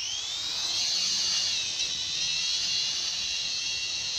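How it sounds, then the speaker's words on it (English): A large drone hovers in a garden, giving off a steady high-pitched rotor whine with a buzzing edge that wavers slightly as it moves, loud and continuous with no voices. "A massive crazy drone that is attacking me."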